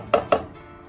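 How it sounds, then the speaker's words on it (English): A spoon knocks twice against a pot while granola ingredients are stirred over a medium flame, two quick close clinks followed by a faint scrape, with no talking. "you're just gonna wanna stir it until it's all combined"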